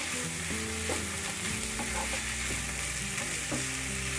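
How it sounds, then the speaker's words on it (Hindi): Methi aloo sabzi with tomatoes being stirred in a pan over low to medium gas, steady loud frying sizzle with repeated spoon scrapes and knocks against the pan. "इसे अच्छे से सब्जी में मिक्स कर देंगे हम"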